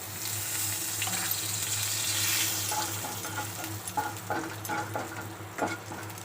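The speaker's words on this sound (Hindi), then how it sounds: "देखो तो आमर जीरा भाजी आसलानी।" Cumin seeds frying in hot oil in a pan, a continuous close sizzle with scattered crackles and light stirring clinks throughout.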